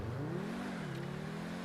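A Pegassi Zorruso in GTA V accelerates at a race start, its engine a steady, rising drone with a slight dip and recovery in pitch, sounding fairly faint and continuous.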